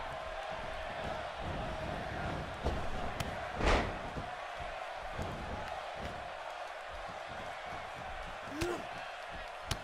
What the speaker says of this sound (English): listen to the appreciation this Columbus crowd is giving these superstars